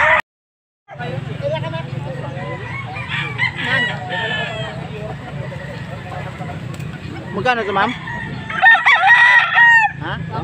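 Chickens cluck steadily at a busy poultry market while a rooster crows loudly near the end, with people talking and bargaining over the birds.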